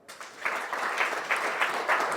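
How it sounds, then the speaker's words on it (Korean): A forum audience applauds steadily, a dense wash of clapping that swells after a brief start and holds at a strong, even level throughout. "마지막 박수 한번 부탁드립니다"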